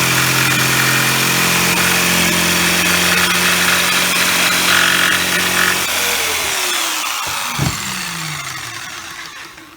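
A jigsaw cuts a wooden board being prepped for resin geodes, its loud steady motor whine running for about six seconds before winding down, followed by a brief clatter as the machine stops.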